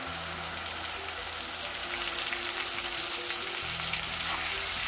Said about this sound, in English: We have to fry these tomatoes till they get cooked.